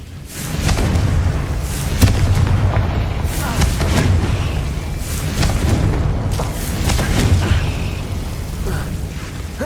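Hogwarts Legacy's Confringo fire spell sets off a run of booming blasts and crackling bursts amid continuous dense battle noise, loud and up close, with game voices mixed in.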